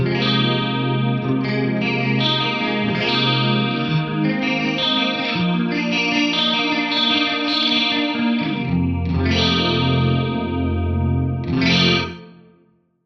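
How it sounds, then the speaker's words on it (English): Sustained electric guitar chords washed in shimmering, slightly detuned delay repeats from a pitch block set as detuned delays, playing continuously and loud before trailing off at the end. "I'm going to turn these delays up so that we can actually use this pitch block as a set of detuned delays"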